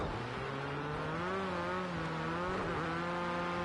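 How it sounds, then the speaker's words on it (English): A rally race car engine in the Rally Fighters video game whines and revs steadily with shifting pitch, a smooth droning roar at moderate volume without any voices. "you can hear that engine revving"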